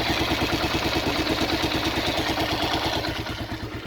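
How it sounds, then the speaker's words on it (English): A Kawasaki KLR650 single-cylinder engine idles steadily nearby with a rhythmic low thump and a clattery, whirring mechanical noise over it after a doohickey torsion spring install, running alone without voices. "if you listen, there's a whirring sound."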